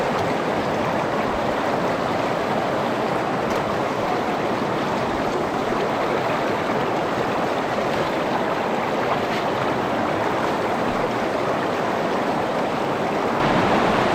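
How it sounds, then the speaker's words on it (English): A river flowing into Lake Cushman, Washington rushes in a loud, continuous, even roar of moving water, close and steady throughout with no voices. "So from the beautiful river that leads into Lake Cushman"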